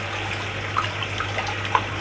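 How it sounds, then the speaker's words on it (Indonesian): AB Mix hydroponic nutrient is stirred into water, giving a soft, steady swishing of liquid with a few faint clinks and splashes. "Kita taruh AB Mix, kita aduk"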